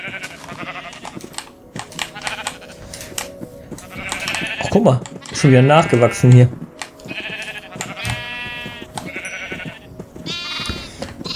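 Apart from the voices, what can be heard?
purple sheep bleating in video game Minecraft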